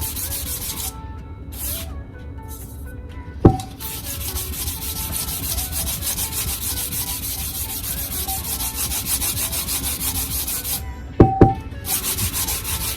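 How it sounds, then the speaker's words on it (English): Fine grit sanding sponge scuffing vinyl on a tumbler: steady, close rubbing strokes with a couple of short pauses and two sharp knocks. "I'm just using a sanding sponge, a fine grit sanding sponge."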